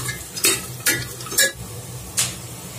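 Ghandyali baddi roasting in oil in a pan, with four distinct stirring scrapes of a spoon against the pan over a soft, steady sizzle.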